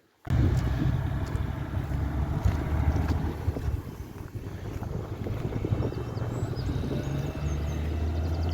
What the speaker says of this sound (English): last scene you would have seen was the lorry leaving the yard here